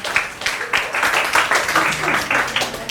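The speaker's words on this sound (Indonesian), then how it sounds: "kita beri aplaus dulu untuk kelompok 4" A classroom group claps for a presenting team of students during a teaching practice session, a steady patter of hands with irregular pulses, close and moderately loud.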